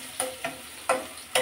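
Chopped onion sizzles in a pan, with four quick scraping stirs punctuating a soft, close frying hiss.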